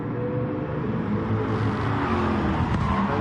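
GT4 race cars braking hard into the Druids hairpin at Brands Hatch, a steady dense roar of engines and tyres holding loud and close throughout with no voice over it.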